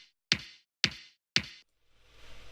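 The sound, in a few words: high sample kick drum playing alone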